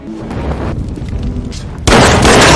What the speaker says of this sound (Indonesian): Francis masih hidup dan langsung menembak English yang mengenai lengan kirinya